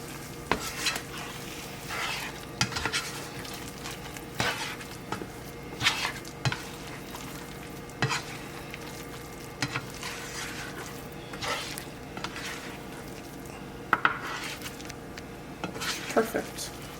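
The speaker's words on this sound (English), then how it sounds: "Let the heat of the pan continue to cook these scrambled eggs." Scrambled eggs stirred in a hot pan, with a spatula scraping and clinking against the metal in irregular strokes over a soft, steady sizzle, close by and without speech.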